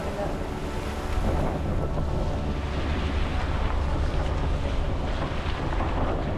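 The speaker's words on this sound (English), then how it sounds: "And so we're furling away the head sail." Sailboat head sail being furled in strong wind at sea, a steady rushing roar of wind and water with rumbling buffeting throughout and no clear separate sail sounds.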